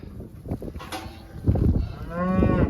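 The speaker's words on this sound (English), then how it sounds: "Okay, so I'm letting cows exit nicely." Cattle moo loudly and nearby as cows are let out of a pen one by one, with one long drawn-out low call over shuffling and movement.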